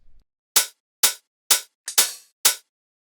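Layered hi-hats and a wide shaker in a tech house beat, six crisp bright noisy hits in a steady syncopated pattern, one doubled with a quick extra tick, alone and close.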